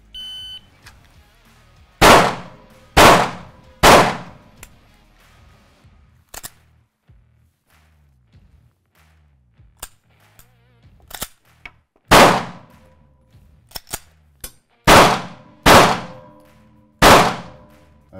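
Pistol shots fired at targets on a shooting range ring out sharp and loud, about a dozen in all, some in quick pairs and triplets, with faint metallic clinks between them.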